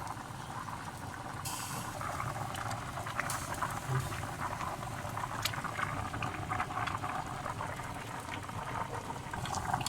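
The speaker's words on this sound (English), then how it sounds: "let the curry cook until it's done" A pot of curry cooks at medium heat on a stove, giving a steady, continuous bubbling simmer with faint liquid patter throughout, close and moderately loud, with no talking.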